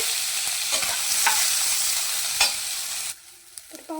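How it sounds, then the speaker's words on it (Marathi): Onion frying in oil in a pan, a loud, dense sizzle with stirring scrapes that drops off abruptly near the end, leaving a few quieter clinks. "तर आपण याच्यामध्ये थोडेसे तेल ओतणार आहोत, म्हणजे कांदा खमंग भाजला जाईल"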